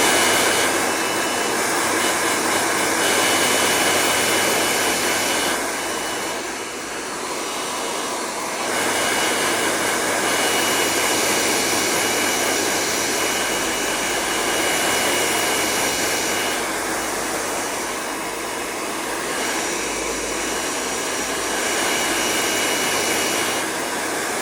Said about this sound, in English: just get a good hairdryer